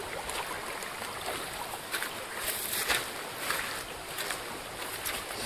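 A boat travels along a river through a canyon, producing a continuous wash of rushing water and hull noise with faint splashes, steady and moderately close throughout.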